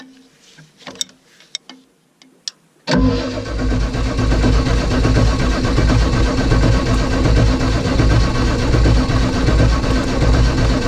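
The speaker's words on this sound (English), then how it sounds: "While I jump up in the tractor and turn it over" A diesel tractor engine with fuel in its oil cranks briefly with a few clicks and knocks, then catches and settles into a loud, steady rumbling idle.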